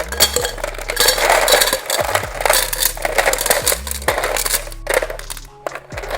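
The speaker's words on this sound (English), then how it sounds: "Let me just pour my ice." Ice cubes clatter and crunch as they tumble into a glass, a busy stream of clinks and rattles with brief pauses, close and fairly loud.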